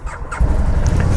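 A Can-Am off-road vehicle engine cranks and catches, settling into a loud, steady low rumble after a short start with a faint squeal.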